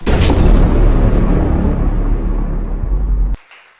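A church congregation breaks into loud, dense applause at a worship service, a sustained roar of clapping that cuts off sharply near the end.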